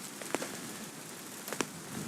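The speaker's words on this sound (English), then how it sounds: "until that rain comes and drowns us out" A sudden rain shower outdoors makes a faint, steady hiss with a few sharp patters and drips standing out, heard alone with no talk.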